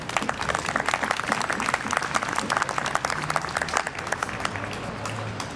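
An audience at a colonial band concert applauds the drummer, with sharp scattered claps forming a lively patter that eases off toward the end, a faint tone underneath.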